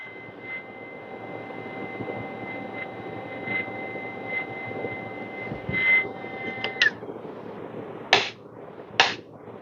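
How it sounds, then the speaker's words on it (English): A Timemore Sculptor 078S electric coffee grinder grinding beans with a steady, close motor whir and faint tonal whine, followed by a few sharp clicks near the end, with no one talking. "So I'm just grinding to check the grind setting."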